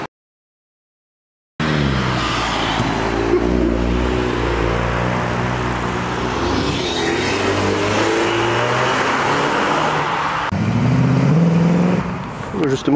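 An old Ford Mustang Mach 1 drives away with a steady, throaty engine rumble that swells slightly near the end, heard outdoors with someone talking over it.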